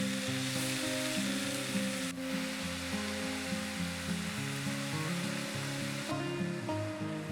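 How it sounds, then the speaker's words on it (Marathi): Mushrooms sauté in a hot pan for a soup, giving a steady, close sizzle that runs the whole time beneath continuous background music. "मशरूम आपल्याला हे व्यवस्थित परतवून घ्यायचं आहे व्यवस्थित शिजवायचं आहे"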